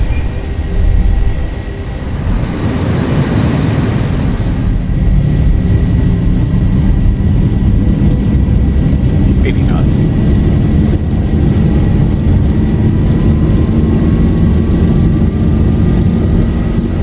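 In an X-Plane flight simulator, a Boeing 737-800's engines spool up to takeoff thrust with a loud, steady low roar and a rising whine that holds throughout.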